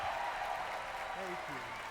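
Audience applause at the Game Awards, a steady wash of clapping that runs the whole time beneath someone talking over it.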